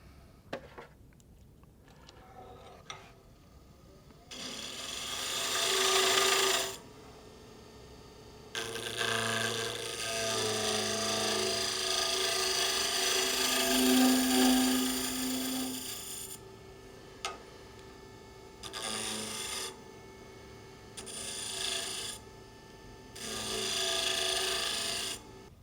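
Sandpaper is worked against a small wooden nut bowl spinning on a lathe, through progressively finer grits, with repeated bursts of rasping, rubbing friction. Quieter pauses separate the bursts.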